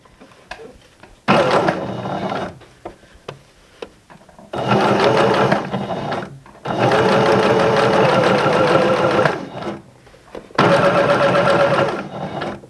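A sewing machine stitches elastic onto leotard fabric in three loud, close bursts of rapid whirring, separated by short pauses with quieter handling in between.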